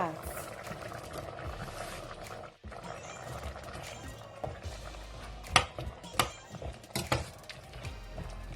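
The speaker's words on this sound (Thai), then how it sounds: "พอกะทิเดือดก็จะใส่ฟักทองลงไป ตามด้วยกระโพดจ้า" Coconut milk simmers at a steady bubbling boil in a pot of Thai pumpkin curry as pumpkin and corn are added, with soft clunks and splashes over continuous bubbling, while a person talks over it.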